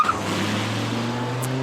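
A car engine hums steadily as the car pulls away, a continuous low drone with a faint high squeal briefly near the end.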